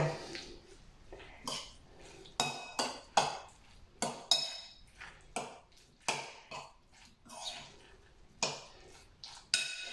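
Irregular clinks and scrapes of a utensil stirring egg cutlet mixture with raw egg in a bowl, sharp taps coming in quick uneven bursts, close up with no voices.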